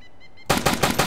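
AUG rifle bursts of automatic gunfire in the video game DayZ: a sudden loud onset after near silence, then a rapid rhythmic string of close shots.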